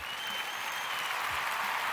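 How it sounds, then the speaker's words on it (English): Applause sound effect triggered from a button, a short burst of crowd clapping at moderate level, steady and alone. "we can have an applause"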